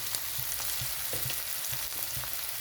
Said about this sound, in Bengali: কাঁচা লঙ্কা, পেঁয়াজ ভাজা ভাজা হয়েছে।